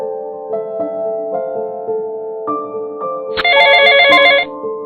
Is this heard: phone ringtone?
yes